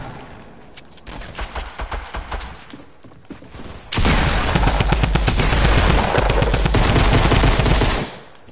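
Video game gunfire in Fortnite: a few scattered shots, then a dense, loud burst of rapid automatic fire lasting several seconds, with no speech over it.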